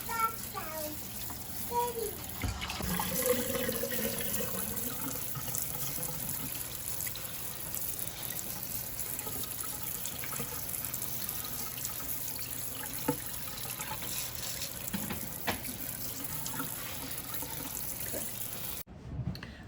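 Fresh eggs being rinsed in room-temperature water at a sink, a soft continuous running and trickling of water with small splashes, close and fairly quiet, with someone talking.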